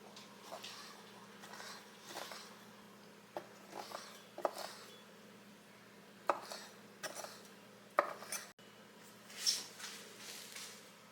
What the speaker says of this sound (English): I'm just going to slice them. I'm going to cut up into smaller pieces.